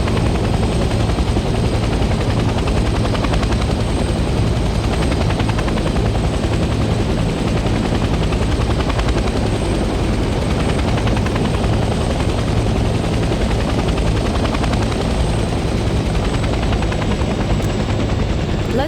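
A helicopter hovers and sets down in a Vietnam-era war video game, its loud, dense rotor thump and engine roar constant and close for the whole stretch.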